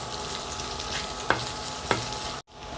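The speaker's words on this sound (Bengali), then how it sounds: "একটু ভাজা ভাজা করে নিচ্ছি।" Chopped onion sizzles steadily in melted butter for shrimp fried rice, with two sharp stirring clicks of a spoon against the pan and no talking.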